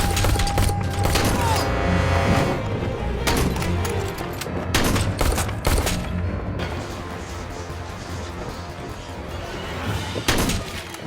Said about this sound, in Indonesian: Dan baku tembak pun tak terhindarkan.